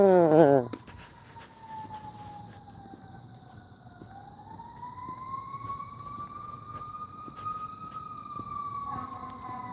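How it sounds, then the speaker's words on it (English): A fire truck siren wails from a distance on a morning walk, a long drawn-out tone that sags and then rises again, with a short horn blast at the start and people talking faintly underneath. "Oh, that might be a fire truck."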